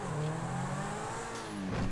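A car accelerates in the video game GTA 5, its engine droning loud and steady with a rising pitch toward the end, heard alone without talk.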